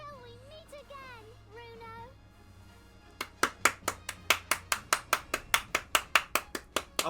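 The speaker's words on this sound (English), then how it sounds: "Applause. Applause." A short burst of synthetic voice-like chirps, then a steady run of about twenty sharp, evenly spaced claps of applause, loud and close, in the video game The Great Ace Attorney 2.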